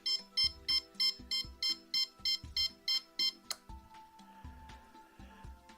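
An electronic device gives a regular series of short, sharp beeps, about a dozen evenly spaced, then falls quiet with faint tones and hum.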